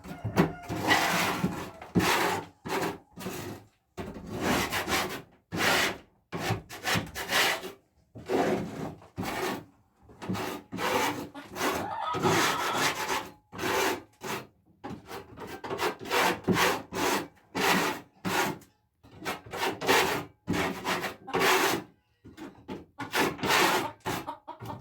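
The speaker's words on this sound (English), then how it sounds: "A paint scraper works really good for this." A paint scraper scrapes along the wood of a chicken coop in repeated rasping strokes, each about a second long, separated by short pauses, close and steady throughout.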